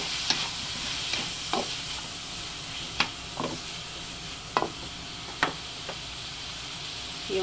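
Tomato and pork cubes frying in a pan for a chayote, cabbage and chicken gizzard dish: a steady soft sizzle with a handful of sharp utensil scrapes and taps from stirring, spaced a second or so apart, with no talking.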